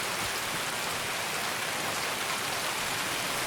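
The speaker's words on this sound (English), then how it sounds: "Ooh, that rain is super loud." Loud storm rain in the video game Escape from Tarkov, a dense, unbroken hiss of downpour that fills the whole stretch at high volume.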